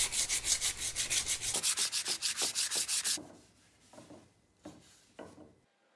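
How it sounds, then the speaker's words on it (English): A 3D printed bike frame coated in epoxy is sanded by hand, with rapid rhythmic rasping strokes for about three seconds, then slower, quieter, scattered rubs. "Now I will sand down the frame to make it as smooth as possible."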